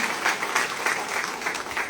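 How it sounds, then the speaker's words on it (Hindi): Crowd applause at a BJP political rally in Rajasthan: steady, dense clapping that stays fairly loud throughout, with no voices standing out above it. "उनके लिए भी ताली बजाएं"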